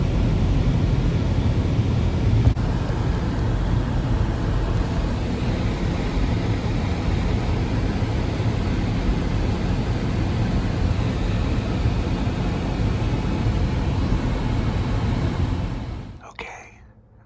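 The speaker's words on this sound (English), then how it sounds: "That's actually a plane." A plane passes overhead at night, a steady, broad low rumble and roar that holds evenly for about sixteen seconds before cutting off abruptly, with no talk over it.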